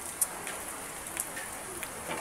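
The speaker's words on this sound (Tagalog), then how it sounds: "biglang bumuhos ang ulan" Heavy rain pouring down at a school, a steady dense hiss of falling water with a few sharper drop hits, no talking.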